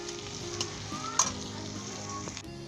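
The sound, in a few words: onions browning in vegetable oil in a kadai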